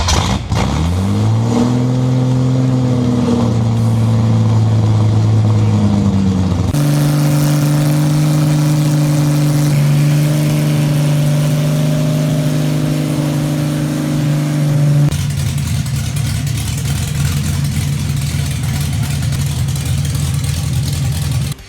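A rebuilt 1983 Holden VH Commodore engine with flat-top pistons, a yellow Terra Stage 3 head, a Crow XU1-spec cam, a Holley 350 carburettor on a custom intake and Genie extractors revs up and down loudly, then settles into a steady, rumbling idle.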